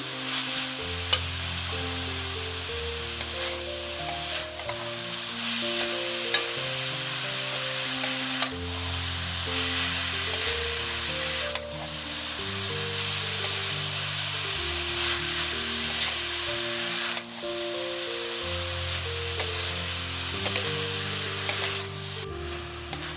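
Grated coconut and nolen gur jaggery are stirred in a pan, with a steady sizzle and scraping strokes under continuous background music.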